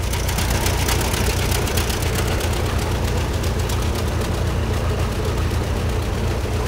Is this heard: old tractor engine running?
yes